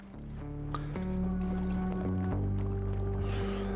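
The character in MIO: Memories in Orbit climbs up a stream of water, a sustained watery squishing slosh that swells and holds over a loud bed of steady tonal game music.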